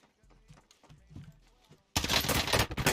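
Gunfire in the Call of Duty Warzone video game: a few quiet thuds come first, then a sudden loud burst of rapid shots fills the last second.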